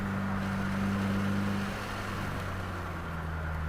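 A 2022 Subaru WRX engine holds a steady, loud drone on an open track day at Waterford Hills, with a constant low pitch that shifts slightly partway through as the car keeps pulling.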